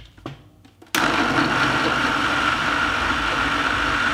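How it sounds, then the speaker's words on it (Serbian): A blender blending cooked vegetables roars to life after a brief quiet moment, running loud and steady without pause. "I sve ću ovo izblendirati."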